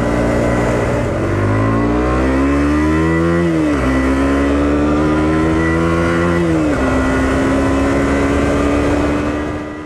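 A 2023 KTM 125 Duke motorcycle accelerating through the gears on twisty roads, the engine pitch climbing steadily, dropping at each shift, then rising again; loud, close and continuous.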